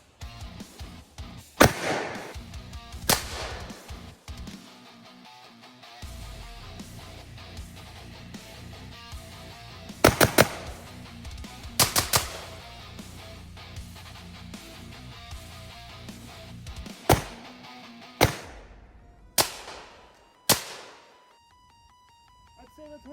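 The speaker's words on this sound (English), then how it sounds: "Let's shoot a little bit." Gunshots ring out at a homemade shooting range, about eight sharp, loud reports spread unevenly, some single and some in quick pairs, between stretches of quiet, with people talking now and then.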